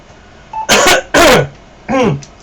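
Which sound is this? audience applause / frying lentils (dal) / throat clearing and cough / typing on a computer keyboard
throat clearing and cough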